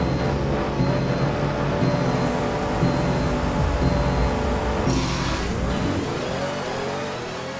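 A Pagani Huayra engine in the Roblox game Driving Empire holds a loud, steady high drone with pulsing tones, then revs up sharply and climbs in pitch as it accelerates.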